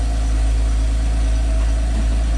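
A Porsche 987 second-generation Boxster S flat-six with standard exhaust idles warm, a steady, loud low rumble holding evenly throughout with no revving.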